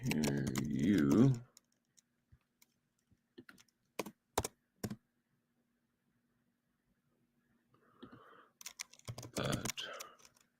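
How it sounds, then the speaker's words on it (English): Computer keys clatter in short clusters of taps, close and clear, broken by silent gaps, with a person talking briefly at the start and again near the end. "Let me type this in."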